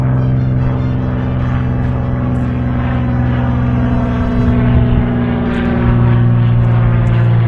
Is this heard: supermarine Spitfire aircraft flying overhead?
yes